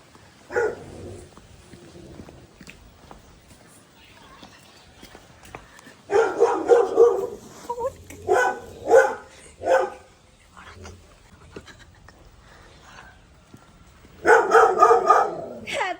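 A nearby dog barks in two loud bursts of several rapid barks, separated by a quieter stretch with faint background sounds.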